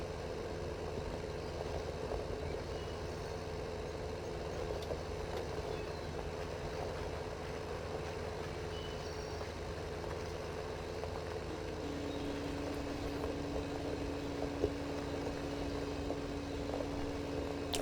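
Tractor engine from the Farming Simulator 15 video game runs at a steady, continuous low rumble for the whole stretch, an even idling drone with a faint tonal hum rising partway through.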